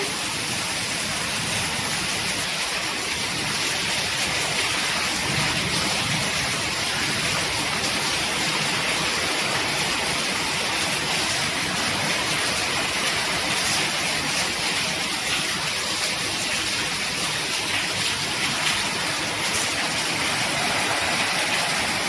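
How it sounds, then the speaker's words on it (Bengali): A constant heavy downpour roars evenly throughout, a dense wash of rain noise close by with no voices and no pauses. "বৃষ্টির জন্য কথা বোঝা যাচ্ছে না"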